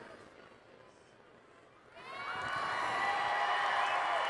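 Monster truck stadium crowd at a Monster Jam event in Albuquerque erupts into a loud, sustained roar and cheering after a quiet murmur, swelling and holding near full volume.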